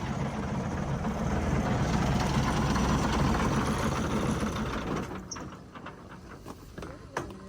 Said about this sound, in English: That's an air leak or an exhaust leak over here, so it's running.